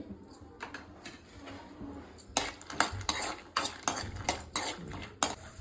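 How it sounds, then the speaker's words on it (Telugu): Peanuts fry in a spoonful of oil as a spoon stirs them in a pan, a run of quick scraping and rattling strokes that start faint and grow busier and louder halfway through. "ఒక స్పూన్ ఆయిల్ వేసుకోవాలి పల్లీలు వేయించుకోవాలండి"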